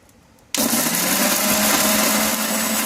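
A blender starts abruptly and keeps up a loud, steady whir as it grinds black and white mustard seeds, white cumin and green chillies into a paste.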